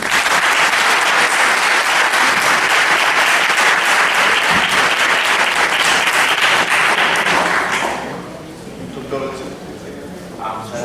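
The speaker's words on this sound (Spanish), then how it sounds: "Lo despedimos con un fuerte aplauso." A conference audience at PUCP claps loudly and steadily for about eight seconds, a dense wash of applause that then fades to a low murmur of the room.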